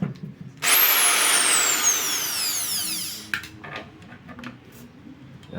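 Electric hand drill boring holes while modifying an electric hotplate, a loud high whine that starts abruptly and winds down over about two and a half seconds, followed by faint clattering.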